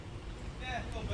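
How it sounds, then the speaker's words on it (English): Low, blustery rumble of wind buffeting the microphone, steady throughout, with a person speaking faintly over it. "it's very windy out here"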